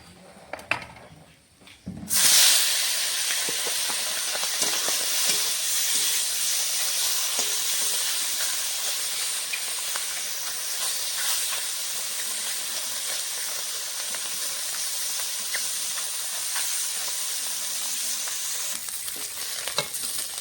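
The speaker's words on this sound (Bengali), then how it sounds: "বাকি মাছগুলো এভাবে ভেজে নেব।" Steady, loud sizzling of tilapia frying in hot oil in a wok, beginning abruptly after a short quiet moment and continuing evenly throughout.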